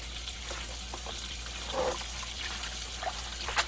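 Soaked prickly lettuce being lifted into a colander to drain, with soft trickles and drips of water and a few small splashes and clatters, close by and fairly quiet.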